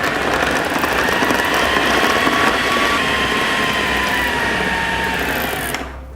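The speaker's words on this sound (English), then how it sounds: "just carry on using your food processor until it's nice and smooth" A food processor whirs loudly and continuously while blending frozen bananas into ice cream, a dense motor drone that rises slightly in pitch before cutting off at the end.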